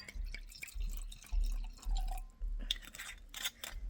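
Wine poured into a glass, with close, trickling splashes of liquid that come in a few short bursts and uneven drips and no talking.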